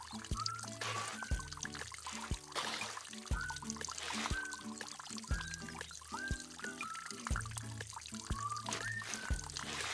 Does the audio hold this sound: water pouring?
yes